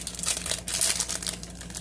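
Crinkling and tearing of a foil Prizm 2020 basketball card hanger pack being ripped open, close-up, a dense run of crackles and rustles lasting a couple of seconds.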